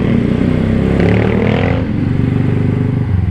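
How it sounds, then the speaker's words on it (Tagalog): A scrambler motorcycle engine roars loud and close, holding a steady drone before dropping in pitch as the rider decelerates. "ingay ng motor ko na maririnig mong magde-decelerate ako"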